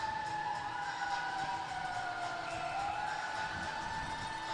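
A wailing siren sounds inside a junior hockey arena during an Alberta versus BC game, its pitch sliding slowly up and down, steady and fairly distant over crowd murmur.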